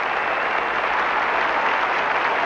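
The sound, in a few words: crowd cheering and applauding after Torvill and Dean's ice dance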